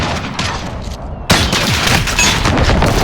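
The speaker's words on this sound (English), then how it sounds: "Enemy precision airstrike" Precision airstrike in Call of Duty Modern Warfare, a rapid barrage of loud booming blasts with a sharp fresh impact partway through, dense and continuous with no talk.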